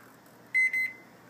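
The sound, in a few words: microwave oven keypad beeps, starting 30 seconds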